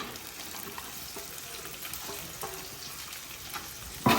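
Garlic sautéing in a pan for dried fish thokku gives a continuous close sizzle with faint stirring scrapes, then a sudden louder knock right at the end.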